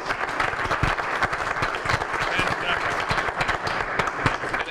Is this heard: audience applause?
yes